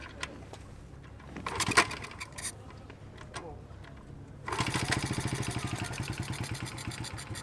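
A car engine is cranked with a little choke at a early-morning cars-and-coffee meet, then catches about halfway through and settles into a steady, fairly quiet, rhythmic idle close by.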